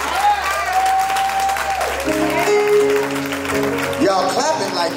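Applause from a crowd at a live show in Ville Platte, a loud clapping texture mixed with sustained musical tones and a speaking voice over the top.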